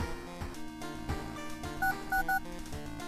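Touch-tone dialing on a telephone in the horror video game World of Horror: a few short beeps sit over steady, droning background music.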